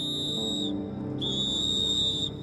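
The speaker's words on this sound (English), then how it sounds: "He even carries a whistle around his neck, which he uses to attract attention." A shrill whistle blown twice, loud and close: a long steady blast, a brief pause, then a second long blast.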